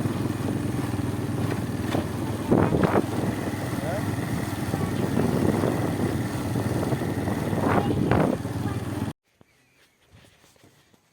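A motorcycle engine drones steadily at moderate volume while riding along a village canal road, with a couple of brief louder bursts before the engine noise cuts off abruptly near the end.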